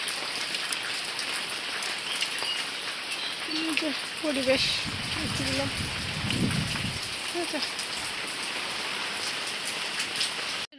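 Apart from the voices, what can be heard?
rain falling outside with wind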